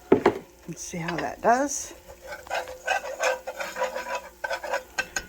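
Flour being stirred into hot bacon grease in a pan for gravy, a close scraping and rubbing of a utensil against the pan with faint sizzle, under a voice talking at the start.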